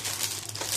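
A large plastic bag crinkles close by in a kitchen while cake-pan preparations are made, giving a continuous papery rustle with no talking over it.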